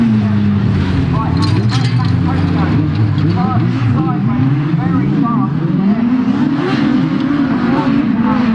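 Rallycross buggies racing at Croft Circuit, with loud, continuous engine roar and shifting revs as several cars run together, heard under a commentator's voice.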